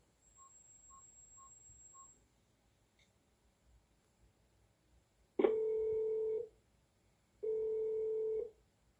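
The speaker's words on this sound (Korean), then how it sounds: "양준일 씨 전화해 주십시오." A few short beeps of telephone dialing, then a pause and two long ringback tones, with no talking.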